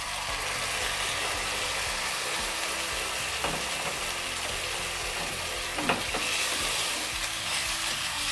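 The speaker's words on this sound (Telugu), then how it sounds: "ఇదిగోనండి టమాటా ప్యూరీ వేస్తున్నాం ఇందులో" Tomato puree sizzles in a pan of frying masala for masala pasta, a steady hiss of frying with occasional spoon scrapes and clinks as it is stirred in.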